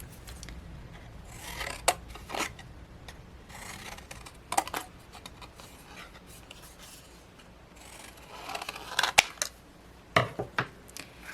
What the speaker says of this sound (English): cut these off with a pair of scissors